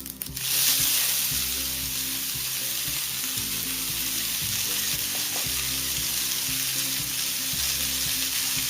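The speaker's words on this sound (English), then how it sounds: "Once the oil is hot, add in your mustard. These have started popping. I am going to add in my green chilies." Mustard seeds popping and green chilies frying in hot oil for a mirchi sambharo condiment, a steady loud sizzle with a sharp burst at the start and irregular small pops throughout, no talking.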